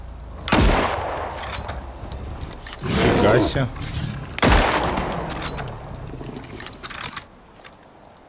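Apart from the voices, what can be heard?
gunshots hunting a bear in video game ICARUS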